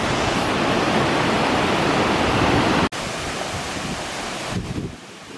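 Nojoqui Falls waterfall in Santa Barbara, swollen and raging after El Niño rains, roars as a loud, steady broadband rush with no voices over it.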